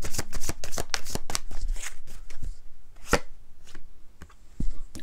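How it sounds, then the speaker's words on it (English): Tarot cards are shuffled by hand close by, giving a rapid flurry of crisp riffling clicks and slaps that thins out into a few scattered taps. "I'm going to take some shadow cards to go with."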